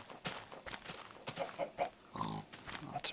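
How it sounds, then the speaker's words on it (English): Pigs grunting in the video game Minecraft, a run of short, close oinks and snorts heard alone at low volume, with no voices over them. "Lots of pigs."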